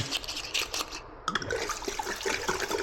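Captain Morgan rum poured into a Taylor 430 frozen cocktail machine, a close gurgling, splashing stream of liquid with brief bubbly bursts, heard alone.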